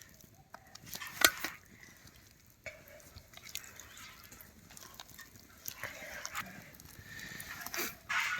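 Onion pakora batter with baking soda is mixed in a bowl, giving faint, wet, uneven stirring and squelching with intermittent scrapes and taps in a quiet kitchen.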